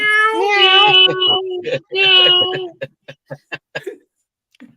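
A human voice mimics a cat, drawing out several meows, followed by a series of short clicks and taps.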